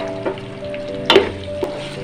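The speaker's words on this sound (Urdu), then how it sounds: "پیاز کو بھی ناظرین ہم لائٹ سا فرائی کریں گے." A medium onion fries lightly in a pot for Kabuli pulao, giving a soft, low sizzle under a steady hum, with a few sharp clatters of a spoon or stirring.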